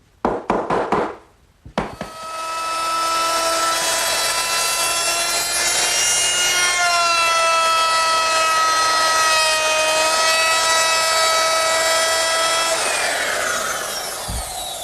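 A router with a 1/2-inch radius bit rounds over the top edges of wooden washstand parts, starting with a few short bursts, then a steady, loud, high whine that holds for about ten seconds before winding down.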